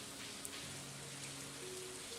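Light rain falls in a video game, a soft, even patter that stays faint and steady throughout with no voices.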